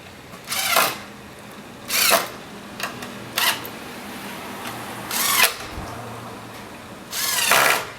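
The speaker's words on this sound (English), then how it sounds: "Screwing these in right now." Power drill screws parts together on a cubmobile build in five short whirring bursts spaced a second or two apart, close and fairly loud against quiet background noise.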